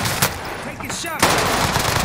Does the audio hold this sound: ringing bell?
no